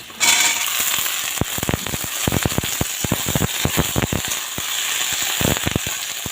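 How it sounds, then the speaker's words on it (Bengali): Onion and okra frying in hot oil in a pan for a Bengali okra dish, a loud continuous sizzle with rapid crackling pops and spatters throughout, close by. "এখন পেঁয়াজটা ভেজে নেব।"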